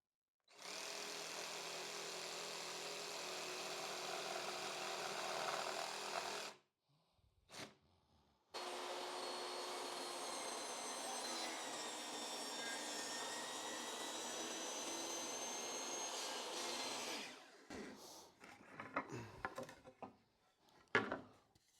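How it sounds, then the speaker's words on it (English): Jigsaw making a small cut in a wooden fence picket for a planter, a loud sustained buzzing whine in two long runs separated by a short pause, ending in scattered knocks and handling sounds. "So we're just going to make a small cut right here with the jigsaw."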